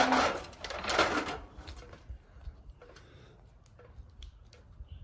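A sewing machine stitches with colored thread in a short, loud mechanical burst, then winds down into faint intermittent clicks and ticks.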